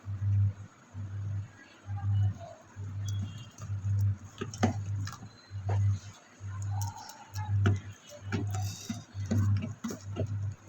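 Pakoda batter is kneaded by hand in a bowl, making a steady run of soft, wet, thudding slaps about once a second, close and clear, with faint background sounds.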